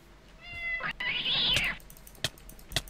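A cat in Minecraft lets out a drawn-out, close meow, preceded by a faint tone and followed by a few sharp clicks and taps.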